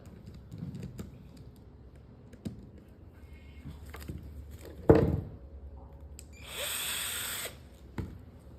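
An electric screwdriver tightening screws while a Striver2100 VTOL model aircraft is being assembled, with a brief buzzing whir near the end among scattered close clicks and handling knocks.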